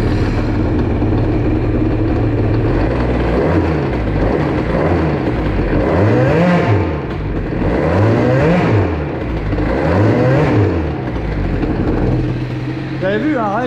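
A Bidalot RF 50 WR motorcycle engine being tuned for a lean idle revs up and down in three distinct rising and falling sweeps during a clutch test, loud and close, with a steady idle between the bursts.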